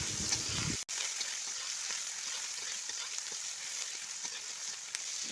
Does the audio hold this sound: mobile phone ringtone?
no